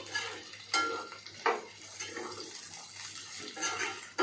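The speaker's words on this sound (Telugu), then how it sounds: "మటన్ వేసి కొంచెం ఇదంతా కలిసేలాగా కలుపుకుందామండి" Mutton pieces are stirred and mixed in a hot pan, giving soft sizzling with repeated scraping strokes of a spoon, close and moderately quiet, with no voices.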